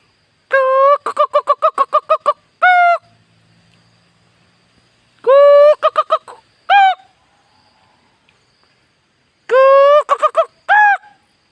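Loud, honking bird calls in repeated bursts: rapid strings of nasal hoots with pauses between, close by and clear against near silence.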